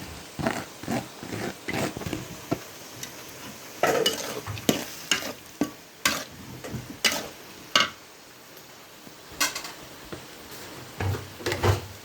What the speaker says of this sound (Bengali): দেখুন একটু নাড়াচাড়া করে তারপর দিয়ে দিচ্ছি কাঁচামরিচ কুচি